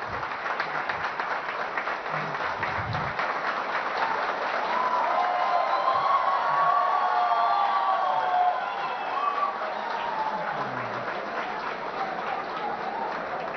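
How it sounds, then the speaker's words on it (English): Crowd applause with some cheering at a corporate awards event, sustained clapping throughout at steady loudness, swelling slightly in the middle before easing off. "I would expect everyone to applaud him more"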